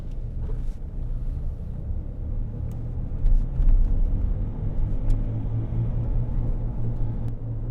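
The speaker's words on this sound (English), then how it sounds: "We've got a wheel bearing noise there." Low steady rumble from inside a moving 2008 Land Rover Discovery 3 2.7 TD V6 with a worn wheel bearing, a continuous droning hum under road noise, with a few faint clicks and light knocks from the cabin.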